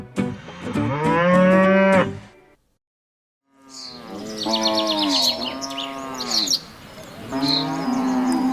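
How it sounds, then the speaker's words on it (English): A cow moos in a long, loud, harmonic call, falls silent for about a second and a half, then gives several more drawn-out moos close by, with faint chirping in the background. "Cow."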